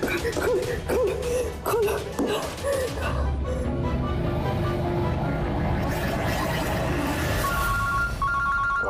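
Phone ringing with repeated electronic bell-like tones, mixed with voices and other background sounds; the ringing continues to the end.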